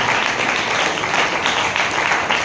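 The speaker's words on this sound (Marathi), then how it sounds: "जोरात टाळ्या वाजून आपण प्रभू येशूला धन्यवाद देऊया." A church congregation clapping loudly together, a dense continuous wall of applause with a steady rhythmic pulse, sustained and close.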